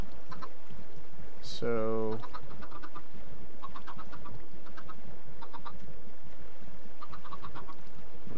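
Minecraft chickens cluck faintly in a pen during transport, with a brief louder squawk near the start, under ongoing game ambience while someone speaks over it.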